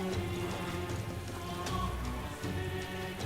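Steady rainfall in the video game Metaphor: ReFantazio, a continuous even patter of drops hitting surfaces that holds at a constant moderate level throughout, with no voices.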